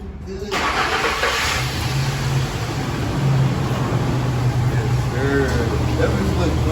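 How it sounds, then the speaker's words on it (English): A car with a swapped-in 5.7 engine and headers idles loud and close, holding a deep steady rumble with slight rises in revs, while people talk nearby. "there go the engine, y'all"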